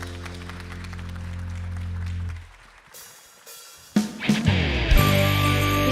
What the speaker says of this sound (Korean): 주님께 영광의 박수 올려드리시며 함께 찬양하시겠습니다